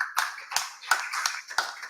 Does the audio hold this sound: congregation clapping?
yes